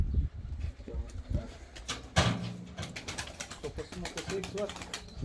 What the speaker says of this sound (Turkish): Hayda kuşları da kovalıyor uçuruyor bak.